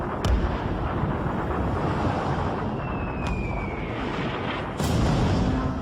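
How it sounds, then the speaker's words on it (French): Heavy deck guns of the battleship Tirpitz fire at Lancaster bombers in a wartime film scene: a few sharp booming blasts over a dense, roaring din, with a thin descending whistle between shots. "Depuis le pont du Tirpitz, les canons crachent un déluge de feu."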